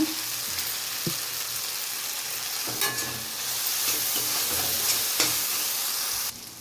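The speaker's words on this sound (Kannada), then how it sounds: "ಒಂದು ಚಿಟಿಕೆಯಷ್ಟು ಪೆಪ್ಪರ್ ಪೌಡರು ಫ್ರೈ ಮಾಡ್ಕೊಳ್ಳೋಣ" Pepper powder and chopped coriander leaves fry in a hot pan with a steady, close sizzle, broken by a few scraping stir strokes and soft clinks of a spatula; nobody speaks.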